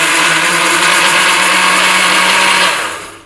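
A blender whirring loudly and steadily up close as it purées two pieces of peach for a milkshake, then winding down at the end, with no talking over it.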